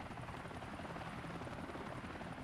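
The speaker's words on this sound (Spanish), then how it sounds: "es un helicóptero, no es un coche" A helicopter in the survival game 7 Days to Die flies with a steady, loud rotor drone and engine whine that holds evenly throughout, with no talking over it.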